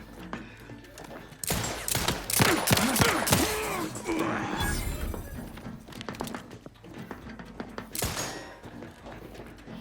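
Firearm gunfire in the game Outer Worlds 2, a burst of rapid loud shots followed by scattered single reports and another sharp shot later, amid combat noise.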